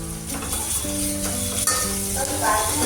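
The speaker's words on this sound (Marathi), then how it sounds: "आता आपण अद्रक लसूण टाकून घेऊ" Ginger and garlic frying in a pan for Rajasthani dal baati, a steady loud sizzle with stirring scrapes, while faint tonal music or a hum runs underneath.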